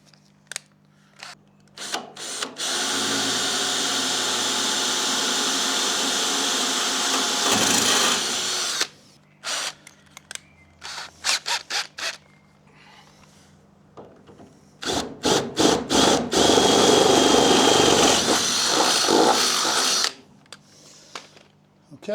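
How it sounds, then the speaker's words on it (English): A power drill whirs in two long bursts drilling pilot holes while installing a braai, separated by short clicks and handling noises, loud and close. "we'll go ahead and drill the second pilot"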